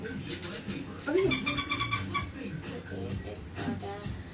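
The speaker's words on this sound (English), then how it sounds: "There's a kitty cat." A cat gives a short meow at close range, with a second faint mew a little later, while people talk over it indoors.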